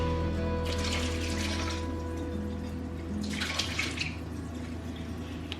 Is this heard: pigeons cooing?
no